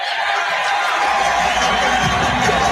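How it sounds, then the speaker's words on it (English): Inside Wintrust Arena, a college basketball crowd of DePaul fans, standing for a late-game timeout against Georgetown, keeps up a steady, loud roar of cheering with scattered whoops that swell slightly toward the end. "Listen to this crowd here at Wintrust Arena as the DePaul faithful on its feet"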